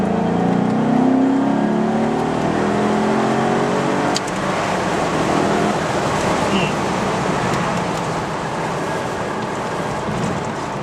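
A 2004 Maserati Cambiocorsa Spyder with a 370-horsepower engine pulls hard through the rev range, its loud, close engine note rising, pausing briefly at a shift, then climbing again under wind and road noise.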